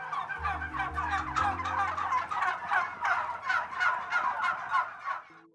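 A flock of turkeys on a turkey farm in eastern Pennsylvania gobbles in rapid, overlapping rattling bursts, loud and close, with a low droning hum underneath and no talking.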